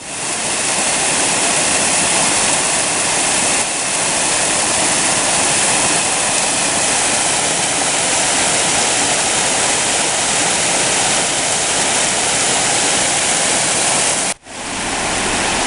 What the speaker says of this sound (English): we're here at the first crossing of Ledbetter Creek